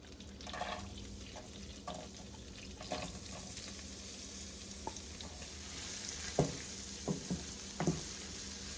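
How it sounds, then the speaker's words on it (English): Garlic and onion sautéing in a pan for lobster rasta pasta, a steady low sizzle broken by occasional stirs and utensil scrapes that grow more frequent toward the end, with no talk. "And now I'm gonna start going in with my garlic and onion."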